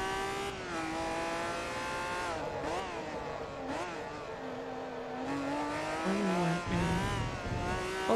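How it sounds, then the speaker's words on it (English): Lamborghini Murcielago racing in Forza Motorsport 2, a game engine sound rising and falling through gear shifts with brief tire squeal, steady and moderately loud. "The old school Lamborghini Murcielago is an absolute classic."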